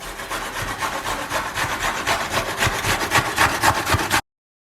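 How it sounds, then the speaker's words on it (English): Fresh ginger and turmeric root rubbed against a grater while making sauerkraut, giving a steady run of rhythmic rasping strokes, close and fairly loud, with no talking. "we're going to take the ginger and the turmeric and we're going to give that a grate as well"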